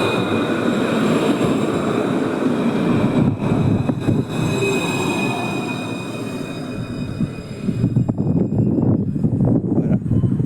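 A Montpellier TAM line 1 tram pulls into its new terminus station: a loud, continuous rolling rumble with high metallic wheel-squeal tones, close by and fading slightly before a final surge.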